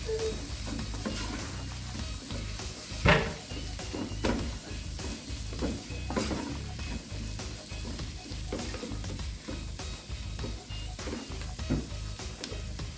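A steak stir-fry cooked Indian style sizzles steadily in a pan while being stirred, with scraping and clinking of the utensil and one sharper knock early on, close and continuous throughout.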